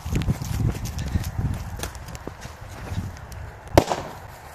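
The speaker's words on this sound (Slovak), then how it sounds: "Dúfam, že mi to nevystrelí hneď celé po prvej petarde" Firecrackers pop in a quick, irregular series of sharp cracks, near and moderately loud, with one stronger bang toward the end.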